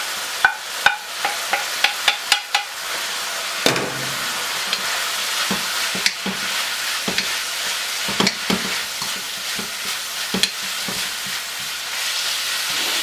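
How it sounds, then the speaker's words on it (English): Chopped celery and bok choy cabbage stir-fry in a hot pan with a steady sizzle, while a utensil scrapes and clacks against the pan in scattered sharp knocks throughout, close-up and without talking. "I'm going to throw in these chopped celery pieces. And this bok choy cabbage."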